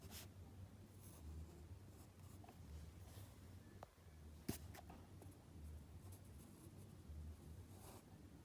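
A pencil scratching steadily across paper, a faint continuous close scraping with brief louder strokes, and no talking.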